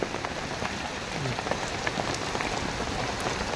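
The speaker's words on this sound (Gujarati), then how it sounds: "તો આવો વરસાદ પડે છે" Steady rainfall outdoors, a thick continuous patter of drops hitting surfaces nearby, with occasional brighter individual splashes and no voices.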